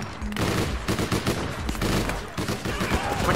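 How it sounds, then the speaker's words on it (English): Rapid, sustained automatic gunfire in the online shooter APB Reloaded, a dense, continuous rattle of shots at close range running for several seconds, with some voice faintly mixed underneath. "You shot me in the back."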